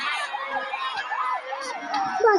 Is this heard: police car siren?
yes